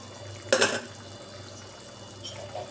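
Dried fish curry (karuvadu kuzhambu) simmers in a pot with a faint, soft bubbling and one brief splashy burst near the start.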